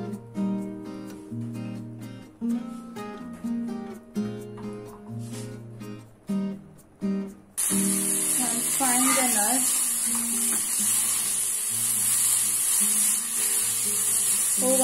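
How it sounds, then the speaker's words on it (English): Cashew nuts, almonds and raisins frying in ghee for a carrot halwa, a loud steady sizzle and hiss that starts abruptly halfway through, after a stretch of background music. "For 1 minute I'm going to fry it and then I take it off from the burner."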